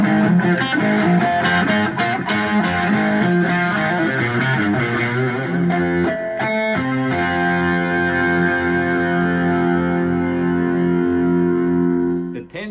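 A 4-string cigar box guitar with light gauge strings through a Cube 10GX amp on moderate distortion plays fast picked metal licks and bends, ending in a long sustained ringing chord that fades out.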